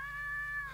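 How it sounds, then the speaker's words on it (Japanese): A single cat meows in a radio drama, one short, clear, drawn-out tonal cry heard alone and close. "猫たち、もとちゃんがあんまりミヤにそっくりなんで驚いたんだな"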